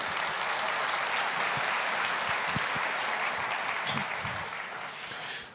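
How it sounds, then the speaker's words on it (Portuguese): A church congregation applauds during a sermon, a steady wash of clapping from many hands that holds for several seconds and then tapers off near the end, with no talking over it. "Pode aplaudir."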